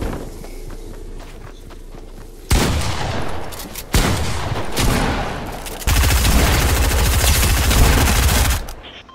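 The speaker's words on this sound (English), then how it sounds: "I was using a silver SMG" Bursts of silver SMG gunfire in Fortnite, loud rapid fusillades in several runs separated by short gaps, with footsteps in between and no talking.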